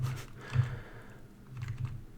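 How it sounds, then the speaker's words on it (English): Typing on a computer keyboard: a quick run of soft, close key clicks, a short pause, then another burst of tapping, with no voices. "I'm using the keyboard keys"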